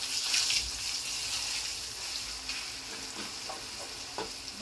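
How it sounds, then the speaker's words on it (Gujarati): Garlic masala sautéing on low heat in a pan, giving a continuous soft hissing sizzle with a few light spatula scrapes and taps near the end, close and quiet, with no speech. "આમાં થોડું લસણને સાતળવા દઈશું."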